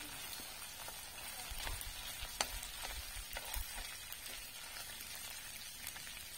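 Small fish sizzle quietly in oil in a wok, with a soft continuous crackle and a few sharper pops, and no voices.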